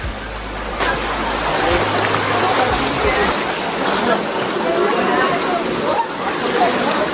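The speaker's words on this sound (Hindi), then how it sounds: "भाई पानी का फ्लो इतना तेज है ना," Fast-flowing stream water rushes at Guchhu Pani near Dehradun, a loud continuous broadband roar filling the scene with sloshing close by, while low thumps and bumps break in early on.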